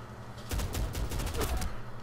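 Rapid automatic gunfire bursts in a Medal of Honor 2010 multiplayer match, loud and close, crackling in a dense rattling stream for about a second and a half after a brief quiet start.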